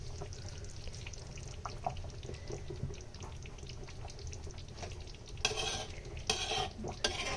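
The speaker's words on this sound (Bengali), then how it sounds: "তা আমি মাঝে মাঝে একটু নেড়ে চেড়ে দিচ্ছি আর কি।" Beef bhuna being stirred in a pot, a spoon scraping and clinking against the metal in a steady, fairly quiet rhythm with a soft background sizzle, growing brisker and louder near the end.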